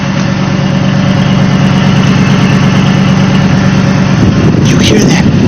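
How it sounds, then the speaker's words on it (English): A Cadillac DeVille idles with a loud exhaust, a steady low rumbling drone close up that holds throughout, with a brief burst of other noise near the end. "You hear that baller gangster exhaust?"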